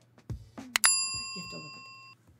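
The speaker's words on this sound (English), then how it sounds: "I was told by my husband and kids I had to ring the bell today" A bell is rung once on a live real estate talk show, giving a bright metallic ding whose clear tone lingers for over a second, with a voice and laughter around it.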